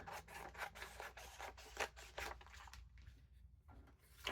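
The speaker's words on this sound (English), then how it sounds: "So I'm going to just cut those quick." Paper is cut for a card craft in a string of quick, quiet snips and scrapes, rapid at first, then slowing and thinning out toward the end. The sounds are close and faint, with no speech.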